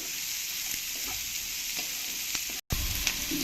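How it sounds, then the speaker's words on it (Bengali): Chopped onion fries with mixed vegetables in a pan for pasta, a constant close sizzling hiss with faint stirring taps, briefly cut off near the end. "পেঁয়াজ কুচিগুলো দিয়ে ভালো করে আমি একটু ভেজে নেবো ভেজিটেবলের সঙ্গে"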